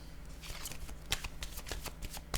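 A deck of cards shuffled by hand during a card reading, a run of quick, crisp riffling flicks close up and fairly quiet, with no voice over it.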